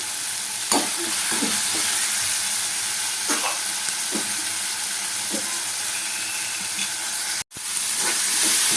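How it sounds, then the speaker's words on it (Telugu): Chopped tomatoes with salt sizzle and fry in a pan for tomato bath, a steady close hiss broken by occasional scraping stirs of a spoon. "టమాటా పండు తొందరగా మగ్గడం కోసం సాల్ట్ వేసుకోవాలి."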